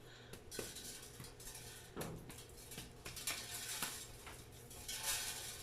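A pork roast is set into a metal pan, producing a series of clanks, scrapes and knocks of cookware and utensils at close range, fairly faint overall.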